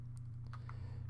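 Computer keyboard keys tapped while playing a retro golf game, with a few quiet, light clicks over a steady low electrical hum.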